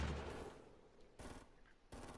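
Gunfire in a Fortnite gunfight comes in a heavy burst and then two shorter volleys of quick, sharp shots, fairly distant and muffled.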